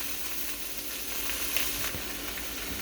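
Vegetables for a shrimp tikka masala sizzle quietly in a pan, a low steady hiss with faint stirring scrapes, no voices.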